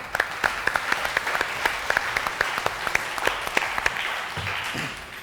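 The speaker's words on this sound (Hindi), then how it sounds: "इनके लिए बहुत सारी तालियां जी" A studio audience at a Ramazan debate show applauds, a loud, dense, continuous clapping from many hands that carries on steadily, with no talk over it.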